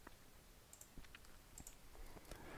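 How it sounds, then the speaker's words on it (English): Mouse right-clicks while changing spreadsheet sheet options such as tab color, heard as a few faint, sharp clicks spread through quiet room noise with no talking. "just by right clicking on it."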